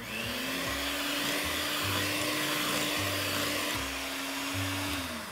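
Food processor blades beat chocolate and vanilla marble cake batter at medium speed, a continuous close motor whir with a steady low hum and slight churning variation, no voices.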